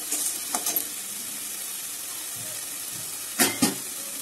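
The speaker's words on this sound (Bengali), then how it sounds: "এবার দিয়ে দিচ্ছি টমেটো কুচিটা, দিয়ে দিচ্ছি বাকি মশলাগুলো" Chopped tomato and spices hitting hot oil in a pan, a soft continuous sizzle with a few louder stirring scrapes near the start and a pair of sharp spatters toward the end.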